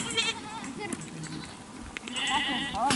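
Sheep and goats in a pen in the Gobi Desert bleat repeatedly, several overlapping calls near and farther off, with a voice talking over them.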